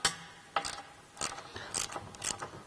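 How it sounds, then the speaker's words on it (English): A socket wrench with half-inch sockets tightens bolts on a Jeep JL rear bumper with tire carrier, making short bursts of close, fairly quiet ratcheting clicks separated by brief pauses. "We're using a couple half-inch sockets here to go ahead and tighten down this rubber."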